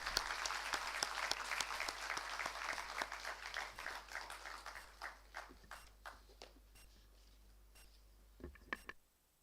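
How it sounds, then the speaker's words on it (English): Conference audience applause, dense and steady at first, thins out into scattered individual claps before fading, with a few last claps near the end. "Please give a huge round of applause, everyone."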